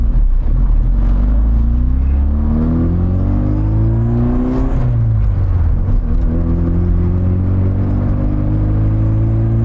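A 1987 Austin Mini 1000 engine drones loud and close from inside the car while driving, its pitch rising through revs, dipping at a gear shift midway, then climbing again.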